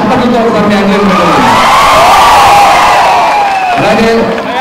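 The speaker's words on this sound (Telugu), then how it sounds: "ఒకసారి వాళ్ళందరికీ మీరు చప్పట్లతో ఒకసారి థ్యాంక్ చేసుకుంటున్నాను" A large audience at the Supreme film's platinum disc celebration at Sandhya theatre cheers loudly and continuously, with whoops and shouting voices swelling through the crowd for the whole stretch.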